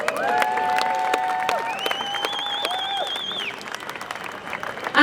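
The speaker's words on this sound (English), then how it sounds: "round of applause for Kirsty" Outdoor crowd applause at a rally in George Square, Glasgow, for a performing musician: a steady wash of distant clapping with whistles and cheers rising above it for several seconds, with no speech.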